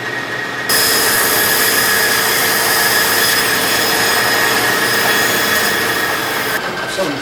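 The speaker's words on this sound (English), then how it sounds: "Once it's a bit smaller, I can cut it on the bandsaw." A bandsaw runs steadily, cutting through a block of dense foam, with a loud continuous motor whine and hiss throughout, starting abruptly after a brief quiet moment and easing near the end.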